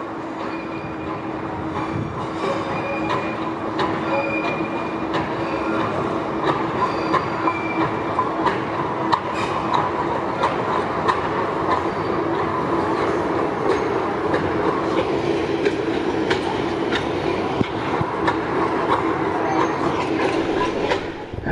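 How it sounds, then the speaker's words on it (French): A train runs along the Rio Tinto railway line in Andalusia, a steady continuous rumble of rolling wagons with wheel squeal and faint rhythmic clicking, sustained and fairly close throughout. "pour ceux qui veulent pas marcher, il y a le train. On l'entend arriver là."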